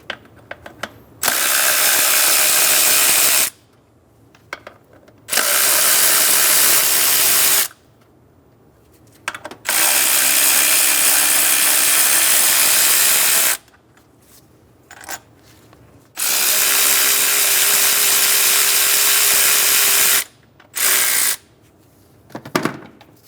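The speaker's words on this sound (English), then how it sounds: "Using a 12mm socket, we're going to remove the 2 nuts and 2 bolts for the throttle body." Power ratchet with a 12mm socket spins off throttle body nuts and bolts on a 2003-2008 Honda Pilot, several loud whirring bursts of a few seconds each, separated by quiet pauses and small clicks.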